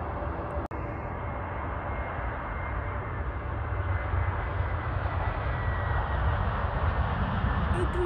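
An Airbus A321 airliner landing, heard as a steady, loud broadband jet roar that holds evenly throughout, with a brief sharp knock near the start.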